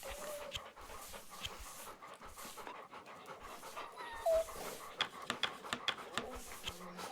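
Sled dogs in the video game The Pale Beyond pant steadily and rhythmically, close and clear, with a few sharp clicks and soft sounds over the continuous panting.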